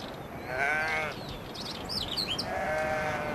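Sheep in Chilean grazing land bleat in wavering, drawn-out calls, one at the start and another near the end, with faint bird chirps in between.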